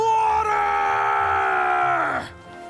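A character screams in the video game Monster Hunter Stories 3, a loud, sustained, tonal cry held for about two seconds that then drops sharply in pitch and cuts off, with no speech over it.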